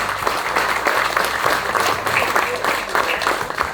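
A crowd at a national rugby refereeing awards ceremony applauds as recipients come forward, a loud, dense, sustained roar of clapping with faint voices mixed in.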